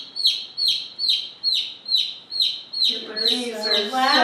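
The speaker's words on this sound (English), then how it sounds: "Your birdies are loud." Pet birds chirp loudly and close, repeating a shrill tweet about twice per second at an even rhythm. Near the end a person begins speaking under the calls.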